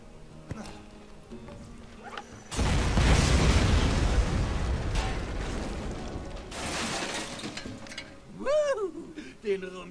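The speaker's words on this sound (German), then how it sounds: "Jetzt sprengen wir die Barrikaden." Barricades blown apart with explosives in Borderlands on Xbox 360: a sudden loud blast bursts out and rumbles for several seconds before fading, followed by a voice speaking.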